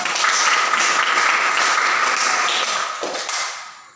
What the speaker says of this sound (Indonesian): Bagus, tepuk tangan buat Silian.